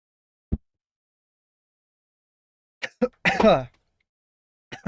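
A few short, sharp coughs and throat-clearing bursts separated by silence, close to the microphone, with one longer rasping burst in the middle.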